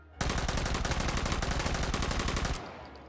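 Rapid automatic fire from an MP18 submachine gun in the VR shooter Hot Dogs, Horseshoes & Hand Grenades, a continuous close, loud burst of evenly spaced shots lasting over two seconds before stopping abruptly.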